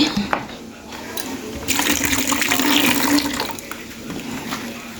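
Water is poured out of a container, splashing and gushing in bursts that swell in the middle before easing, with household background noise around it.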